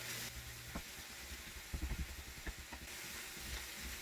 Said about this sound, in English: And now we're going to stir it up again.